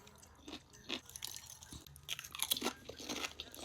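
Close, crunchy chewing of pickled cauliflower from a tinned-fish snack plate: repeated crisp crunches and wet bites come in an uneven rhythm, loud and near, with no talk.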